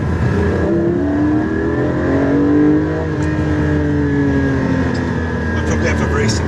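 Engine of a Porsche Cayman 718 GT4 heard from inside the car while driving, a loud steady drone with rising and falling engine tones as it pulls, continuous throughout with no break.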